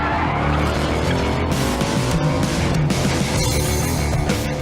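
A test car skids and spins on a track, its tires squealing loudly in a sustained smear over a roaring engine, close and continuous with no talk.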